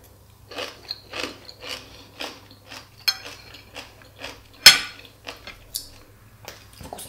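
Sauerkraut being eaten in a mukbang, giving repeated soft wet crunches and chews in a steady rhythm, close to the mic, with a sharper clink of cutlery or dishes partway through and no talking.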